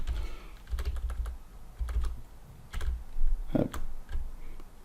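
Keys clatter in quick irregular bursts, close and steady, with short pauses between runs of typing and a heavier thump near the end.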